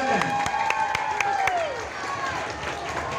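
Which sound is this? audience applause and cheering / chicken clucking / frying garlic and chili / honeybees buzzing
audience applause and cheering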